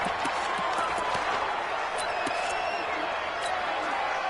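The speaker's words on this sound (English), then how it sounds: "The crowd here in the Dome making things difficult." A steady roar from a stadium crowd inside a domed arena in a PS4 football video game, with scattered claps and shouts in a dense wash that stays fairly constant throughout.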